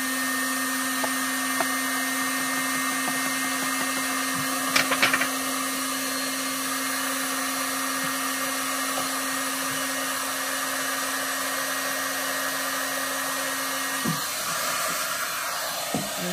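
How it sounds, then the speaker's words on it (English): An embossing heat tool runs with a steady, loud airy whoosh and a constant whine like a hair dryer, holding level for about fourteen seconds before its pitch shifts and it winds down. "I'm gonna go ahead and turn on my heat tool to warm up"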